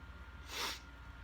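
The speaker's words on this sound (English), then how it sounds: "Sorry for sniffles, allergies." A single quick, soft allergy sniff through the nose, close by in a quiet room.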